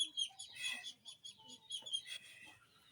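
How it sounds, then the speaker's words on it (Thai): Chickens cluck in short, scattered bursts on a small farm where ducks and chickens roam free, faint and somewhat distant, with a few higher calls mixed in. "เป็ดไก่เพิ่นก็เลี้ยงไปตามธรรมชาติเนาะ"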